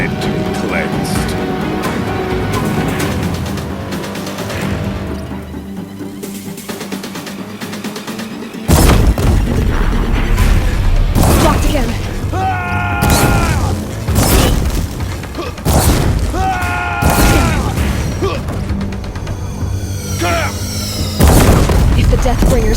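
Deathbringer war machines pound a bridge in Horizon Zero Dawn, heavy booming blasts and thuds landing one after another under a swelling game score, with urgent in-game voices calling out over the barrage.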